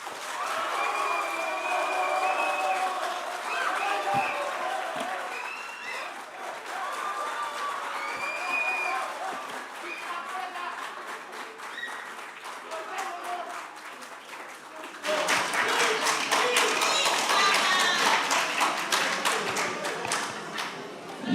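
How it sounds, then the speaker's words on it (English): A quiz competition audience applauds a contestant with sustained clapping and crowd noise that rises louder and denser near the end, with voices mixed in. "Judging by the applause"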